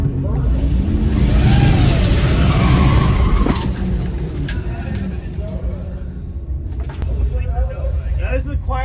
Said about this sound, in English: That was the quietest burnout ever.